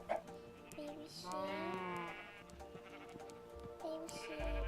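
Sheep in a Nintendo Switch 2 game let out a long wavering bleat, then shorter bleats later, fairly quiet, over steady background game music and ambience.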